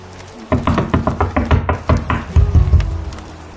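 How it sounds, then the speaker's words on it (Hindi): Knocking on a door in a Hindi cartoon about a crow and a sparrow, a quick series of about a dozen loud, close wooden raps in a steady rhythm. "उसके दरवाजे में दस्तक देता है"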